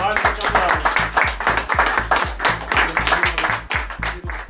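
Warm applause at a Frisian ribbon ceremony, rhythmic group clapping with distinct repeated beats running under a voice speaking over it.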